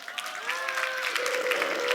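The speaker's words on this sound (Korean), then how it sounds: "박수 한번 해주세요." An audience at a talk applauds in a steady, moderate patter of many hands, with a sustained tonal voice or sound lingering underneath.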